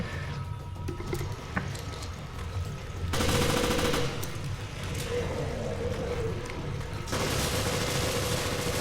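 Rapid bursts of automatic gunfire from enemies in the Resident Evil Revelations Raid Mode video game, loud sustained volleys in two main stretches over game noise.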